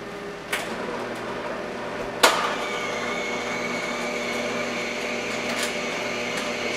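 A juicer machine running while processing celery, carrots, spinach, cilantro and cucumbers, a continuous mechanical whir and hum held close, broken by a couple of brief clunks as pieces are pushed in.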